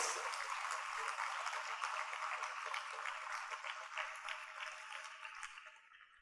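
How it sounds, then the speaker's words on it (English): A crowd at a formal school awards presentation applauds the recipients. The clapping is faint, distant and evenly spread, and it fades near the end. "let's give them both a big round of applause"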